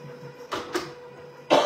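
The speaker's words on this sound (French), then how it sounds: "c'est dur de tousser comme ça. La toux sèche, c'est casse-pied." Three short, dry coughs, the first two close together and a slightly louder one after a pause, over a faint steady hum.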